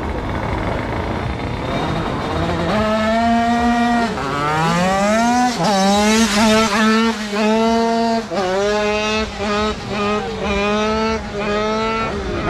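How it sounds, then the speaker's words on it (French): A competition motorcycle on its second run at a stunt-riding show screams through high revs, its engine pitch climbing and dropping repeatedly as gears change and the throttle is blipped, loud and close for the whole stretch, with faint voices in the background. "Allez, deuxième run pour Lori Bike Life"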